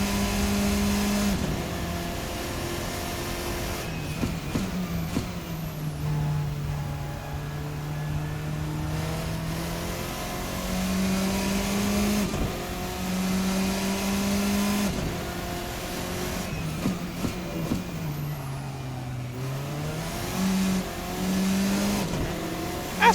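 The Formula RSS 4 race car engine in a racing sim game drones near and steady, rising and falling in pitch through gear changes and revs, with brief shift cuts and occasional tire noise across the whole stretch.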